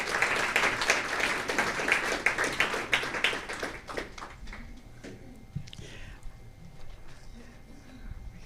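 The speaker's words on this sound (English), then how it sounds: "A long applause all the way up here." An audience at a candidate forum applauds a state Senate candidate, a dense burst of many hands clapping for about four seconds, then thinning out to scattered claps and quiet room noise.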